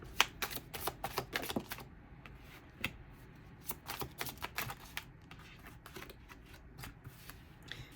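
Tarot cards shuffled and drawn for a spread, quick flurries of crisp riffling clicks and snaps, close and quiet, pausing briefly between bursts with no voices.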